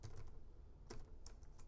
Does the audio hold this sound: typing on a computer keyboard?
yes